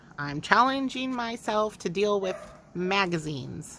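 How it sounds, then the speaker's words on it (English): A puppy barks and yips indoors in the background, several short barks mixed under a woman's steady close-up talking. "please forgive me if you can hear my puppy in the background barking"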